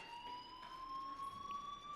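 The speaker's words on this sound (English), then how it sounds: "Hey, do you hear that fire alarm?" School fire alarm in Life Is Strange, a steady high electronic tone ringing continuously and fairly faint in the background.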